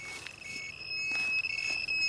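A Gamma Scout radiation detector sounds its alarm with a sustained high, piercing electronic tone, joined by a second steady tone, over faint scuffing and footsteps.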